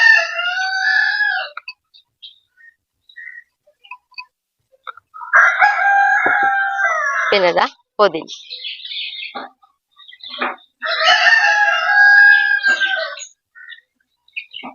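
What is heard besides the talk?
roosters crowing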